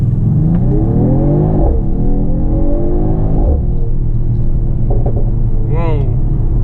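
A Mercedes-AMG GT 4-Door Coupe climbing an uphill forest road, its engine rumbling steadily and rising in pitch as it pulls through gears, heard continuously from inside the car.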